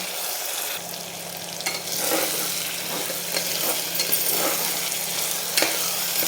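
Onion, ginger and garlic sauté over a high flame in a pan for mutton masala curry, a steady loud sizzle with intermittent stirring scrapes throughout, no voices.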